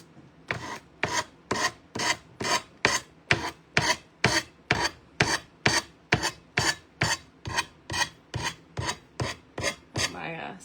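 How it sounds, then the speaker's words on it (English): A dull sanding sheet rasps back and forth over a decoupage craft piece, about twenty even, close strokes in a steady rhythm with no talk. "My sanding sheet's a little dull, so it looks like I'm being quite aggressive here"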